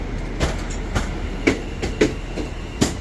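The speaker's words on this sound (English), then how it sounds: "off goes 730-038 off to Wolverhampton" A British Rail Class 730 electric train pulling out of Birmingham New Street, close by and loud, with a steady rumble and rhythmic wheel clacks over rail joints.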